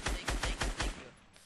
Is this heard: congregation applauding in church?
no